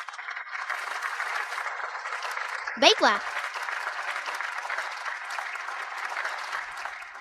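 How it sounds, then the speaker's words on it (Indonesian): Applause at a competition after a contestant's record-setting round, a steady crowd of clapping heard through a hall, with a brief voice speaking in the middle. "Tepuk tangan."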